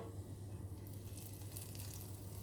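Black-eyed bean fritters (akara) sizzle in a deep fryer, a steady, quiet hiss and crackle of hot oil continuing without pause, with no talking.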